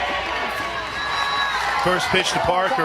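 A Sooner crowd at an Oklahoma softball stadium during a Women's College World Series game against Florida produces a steady roar of cheering and whooping beneath a play-by-play announcer talking.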